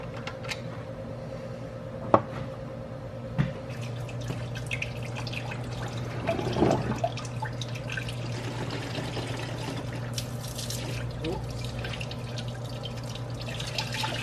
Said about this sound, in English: And yeah, so let's just start draining some fluids.